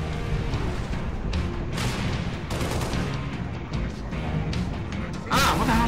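Sustained gunfire and explosive impacts fill a Halo Reach firefight on Legendary difficulty, a steady loud barrage with sharper crashes near the end and a player talking over the din.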